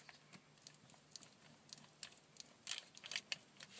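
Scissors cutting through a paper envelope for a junk journal, heard as a quiet series of short, crisp snips and rustles close by that grow denser toward the end.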